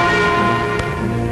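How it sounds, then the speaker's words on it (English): The Freedom Bell in West Berlin tolls with a deep, sustained ringing in an old archival recording, a dense humming resonance filling the whole stretch with no talking. "The Freedom Bell in West Berlin tolls in sympathy for East Germans"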